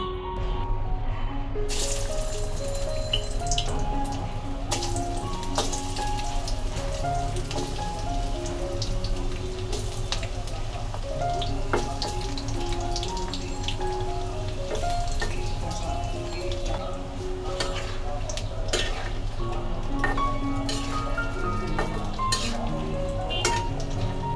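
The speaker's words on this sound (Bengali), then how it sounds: "আর কিছু আপনাদেরকে ভেজে শেয়ার করছি" Chicken iftar snacks deep-fry in oil with a dense, continuous crackling sizzle like rain on a surface, close and steady throughout, with occasional clicks from stirring and no talking.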